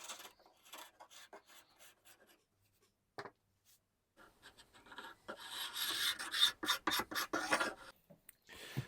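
A hand scraper rasps old finish off a piece of a Victorian wooden table. Sparse, faint scrapes at first build into a dense run of loud, rhythmic strokes near the end, with no talking.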